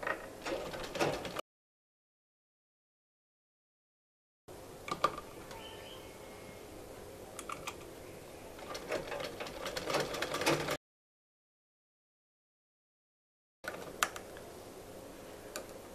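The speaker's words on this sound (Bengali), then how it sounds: "এরপর এই পাশের বগলের সাইডটাও আমি সেলাই করব।" A sewing machine stitches the underarm side seam of a lehenga made from an old saree, with bursts of quick mechanical clatter separated by pauses of silence.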